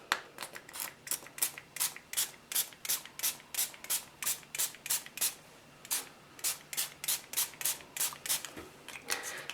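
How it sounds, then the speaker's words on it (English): Quick, repeated hissing spray bursts from a pump bottle spraying alcohol ink onto a canvas, about two per second, close by and steady for the whole stretch. "I am going to spray this on my canvas"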